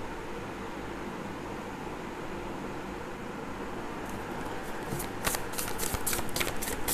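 Tarot cards are shuffled at close range, a rapid fluttering riffle that rises in the last few seconds over a steady background hum, with no voice.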